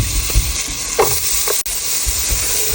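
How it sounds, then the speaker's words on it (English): Butter sizzling and frying in a pan, a steady crackling hiss with a few soft stirring scrapes, close and alone with no talk. "We're gonna saute this until it's nice and fragrant or translucent."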